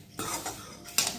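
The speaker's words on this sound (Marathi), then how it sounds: "छान त्याला एक मिक्स करून घेतलेला आहे मस्त. सगळ्या मुरमुरे आणि पोह्याला तिखट आणि हळद लागली पाहिजे" A spoon stirs puffed rice and poha chivda with chilli powder and turmeric in a metal pan, giving two short bursts of scraping, clinking sound that are close and moderately loud.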